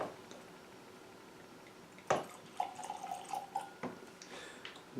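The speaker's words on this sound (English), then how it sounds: "that pleasing glug you always get the first time you pour a wee dram" Grant's Sherry Finish blended whisky poured from a freshly opened bottle, giving quiet liquid glugs and drips after a couple of sharp clicks, faint and close.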